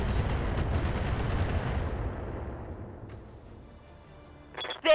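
LRM missile turrets firing in MechWarrior, a rapid volley of loud, close booming launches that rumble and fade over a few seconds before a sharp burst at the end.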